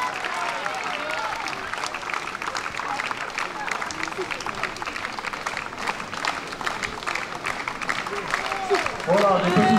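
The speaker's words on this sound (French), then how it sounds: "des petits applaudissements nourris comme ça" Steady applause from a crowd at a Basque strength sports event in Saint-Palais, sustained clapping throughout with a louder swell near the end.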